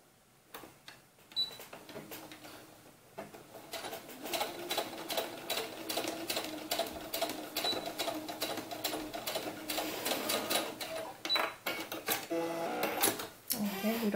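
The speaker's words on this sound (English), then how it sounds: "so let's go ahead and sew that" A sewing machine stitches doll romper fabric up close in rapid mechanical bursts. The fast needle chatter runs in stretches with short pauses between them.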